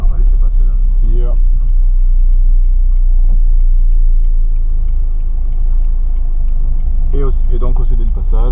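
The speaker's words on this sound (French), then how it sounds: "On va laisser passer la voiture." A car passes at a stop sign during a French driving-test route, its steady low engine rumble heard from inside the learner's car while an instructor talks over it.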